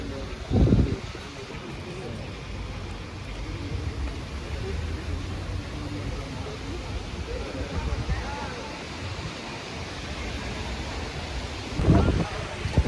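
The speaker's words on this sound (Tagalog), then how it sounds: "ang grabe ang lakas ng hangin" Steady broadband wind roar buffets a microphone in Menton, France, with a couple of heavier gusts thumping near the start and end; no talking.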